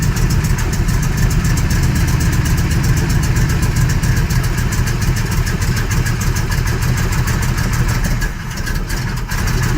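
An Oldsmobile Cutlass G-body with a 455 V8 sits idling, a loud, steady, close rumble with a fast regular pulse that holds evenly for almost ten seconds and dips slightly near the end.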